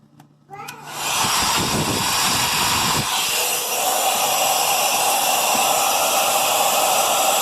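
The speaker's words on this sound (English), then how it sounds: "Got myself the Unger 1095. It's a heat gun. Gonna blow that on everything back there" An Unger 1095 heat gun switches on and blows steadily on a frozen ice machine in a Frigidaire refrigerator, a loud, close whooshing roar that holds after a brief startup whine.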